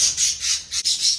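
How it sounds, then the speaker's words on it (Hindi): A female parrot, just let out of her cage in an indoor pet room, gives a quick series of harsh, high squawks, four or five raspy bursts in rapid succession, close and fairly loud. "ये फीमेल बाहर निकल गई"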